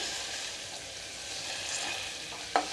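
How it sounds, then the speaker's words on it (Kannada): Boiled tomato is mashed with a spoon in a pan, giving a constant close bubbling and sizzling texture with soft squelchy stirring and one sharp spoon tap near the end. "ಈಗ ಇದನ್ನ ನಾವು ಸ್ಮ್ಯಾಶ್ ಮಾಡ್ಕೊಳ್ಳೋಣ ಸ್ಪೂನಿಂದ ಈ ರೀತಿ"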